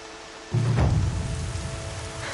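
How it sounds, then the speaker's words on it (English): Heavy rain pours down in the video game Horizon Zero Dawn, a steady dense hiss that swells suddenly with a low rumble like distant thunder, then continues as constant loud downpour with no voices. "Raining like it's trying to wash everything away."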